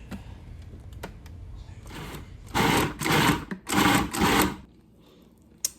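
A food processor pulses an onion and chili mixture in four short, loud, whirring bursts separated by brief pauses. Quieter clatter and handling noises come before and after.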